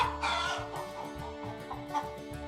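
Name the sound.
chicken clucking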